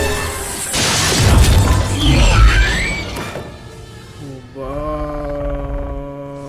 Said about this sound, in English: It's gonna come through the glass!